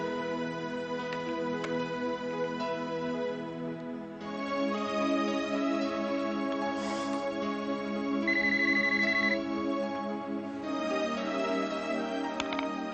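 A melodic electronic ringtone plays continuously, a steady repeating tune of sustained tones with no voices over it.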